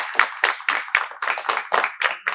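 An audience at a live music show claps in a brisk, steady rhythm, about nine or ten close bursts of hands in a little over two seconds.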